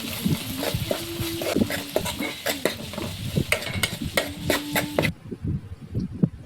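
Onions fry in a pan with ginger garlic paste for a mutton curry and are stirred briskly. Close, continuous sizzling comes with scraping and clinking of a utensil against the pan, loud and alone throughout.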